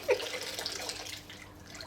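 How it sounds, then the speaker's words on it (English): Lukewarm water is tipped into a tub for cleaning a shop vac filter, a soft, fairly faint splashing pour that trails off toward the end. "I'm going to tip a little bit of warm water into it"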